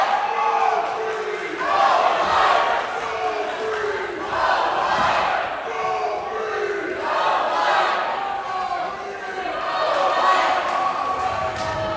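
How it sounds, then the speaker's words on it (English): A crowd at a Michigan State versus Grand Valley State basketball game roars and chants in waves, loud and continuous in a large arena, with a commentator speaking over it. "The crowd imploring Michigan State to get back into it."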